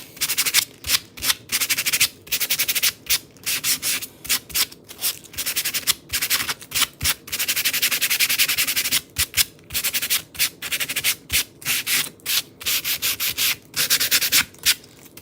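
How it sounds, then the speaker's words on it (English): Hand sanding of a Chalk Couture patriotic stars transfer project, a steady run of rasping abrasive strokes in short bursts with brief pauses, close and fairly loud, no talking. "What I'll probably do is sand that down a little bit."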